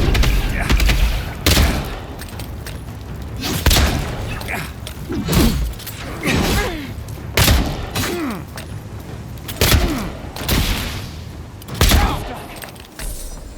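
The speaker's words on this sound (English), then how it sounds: "Gun's really coming in clutch." Gunfire in the video game Avowed: a series of heavy, booming shots at irregular intervals of a second or two, each loud and sharp over a low background of game effects.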